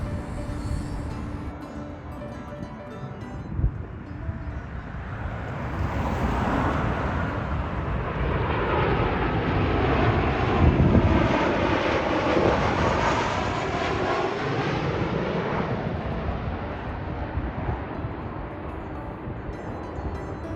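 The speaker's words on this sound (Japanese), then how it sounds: "空港北口にある空港通りは飛行機が真上を通過するので、すごい迫力があります。" A jet airliner passes low directly overhead near Fukuoka Airport's north side, its roar swelling from a distant rumble to a loud, sweeping peak around the middle, then slowly fading; no talking.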